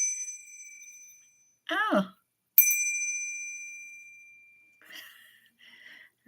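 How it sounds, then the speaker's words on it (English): A small angel bell gives two clear rings, each a bright sustained tone decaying slowly, with a short spoken exclamation and breathy vocal sounds between and after. "I got the cutest little angel bell"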